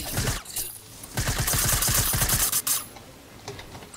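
Rapid automatic gunfire in the game Fortnite, a fast rhythmic burst of shots lasting over a second, loud and close, bracketed by scattered single shots and quieter game sounds.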